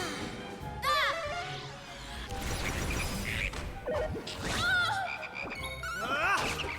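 Toadies, the frog enemies in Dragon Quest 7, croak repeatedly in bursts of rising warbles alongside battle hits and swooshes, loud over steady game music.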